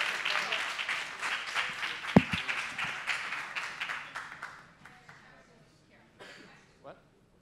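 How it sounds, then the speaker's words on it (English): A startup pitch-competition audience at Technoparc Montreal claps warmly, a dense burst of many hands that thins and fades out over several seconds, with a few sharp louder claps near the start of the fade and a voice talking over it. "Just applause, thank you."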